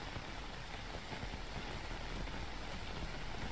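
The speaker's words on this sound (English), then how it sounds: "Damn, that's some loud fucking rain." Loud rain pours steadily and evenly, a dense broadband hiss filling the space close by, with no talk over it.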